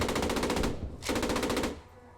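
An MG34 machine gun mounted on the side of a tank in a video game fires two sustained rapid bursts separated by a short pause, loud and close with no talk.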